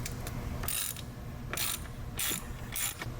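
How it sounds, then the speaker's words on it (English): A hand ratchet fitted with a T45 Torx bit clicks in repeated short bursts while backing out the bolts of a stock Akrapovic muffler on a BMW S1000RR motorcycle, close and steady against a constant background hum. "Now we're going to remove the stock Akrapovic system, the muffler first with a T45 Torx bit."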